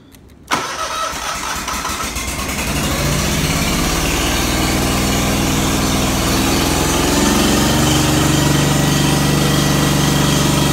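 A Scag Turf Tiger mower engine cranks with a sharp catch, then fires and runs steadily, loud and close, settling into a rough idle with throttle and choke adjusted.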